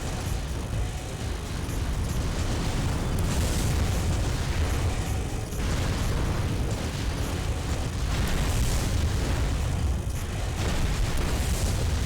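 Heavy, continuous explosions from bazooka and grenade rifle fire in the mech combat game Armored Core Silent Line, a loud dense barrage of booms and rumbling blasts filling the whole stretch with no talk.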